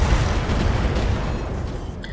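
A BattleTech mech fires everything at once: four medium lasers, an SRM-6 and an AC-20, overheating. The volley is a loud, dense, continuous rumble of booms and blasts that holds steady throughout, with no voices.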